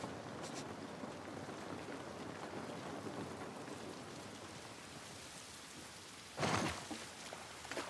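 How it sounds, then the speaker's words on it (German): Steady rain falls in The Last of Us Part 1, a dense, continuous hiss of drops on surfaces throughout, with a brief louder burst of splashing near the end and no voices. "Dieser Regen ist nicht gut für uns."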